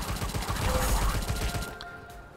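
A Tommy gun fires in the game Tesla vs Lovecraft, a rapid rattling burst of closely spaced shots, loud and up close, that stops abruptly near the end.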